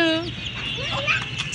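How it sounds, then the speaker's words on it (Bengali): Chickens cluck on a rooftop, several short, close calls in quick succession, with a higher cry at the start. "ছাদে অনেকগুলা মুরগি"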